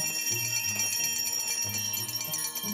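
Bell ringing in a scary animated story, steady high metallic tones that sound throughout over a low, pulsing musical backing, with no speech.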